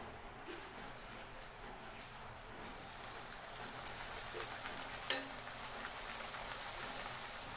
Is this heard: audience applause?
no